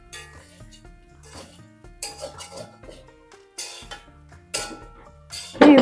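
Spoon scraping and clinking against a pan while potato rice is mixed, a series of close metallic clinks and scrapes in irregular bursts, with background music underneath.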